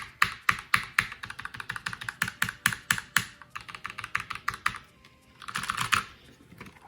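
Rapid, soft clacking of linear red switches on a Redragon K589 low-profile mechanical keyboard, a steady burst of typing with smooth, muted strokes, then a brief pause and a faint flurry.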